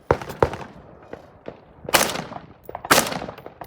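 Rifle shots at long-range steel targets, one hidden in rock shadows past 400 yards, ring out as several sharp cracks with broadband bursts, two early reports followed by two louder, longer blasts with trailing echoes.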